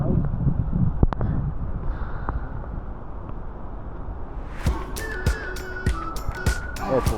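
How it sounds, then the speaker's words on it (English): Gale force wind on Helvellyn mountain roars steadily as a loud broadband rush against the microphone, with gusty swells throughout, and sharp clicks and rattles join near the end. "Never underestimate the wind."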